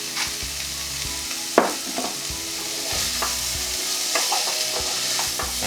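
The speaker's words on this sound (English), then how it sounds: "we've got the onions, garlic and carrots in there" Onions, garlic and carrots sautéing in a pan for a vegan cottage pie, with a steady sizzle, scattered clacks and scrapes of stirring, and one sharper knock partway through.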